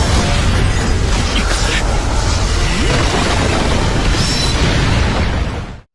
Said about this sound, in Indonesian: akhirnya ledakan dahsyat karena benturan dua teknik roh tingkat tinggi menggoncang seluruh pesawat mayat hidup Yuho sebelum kemudian Jijo Chen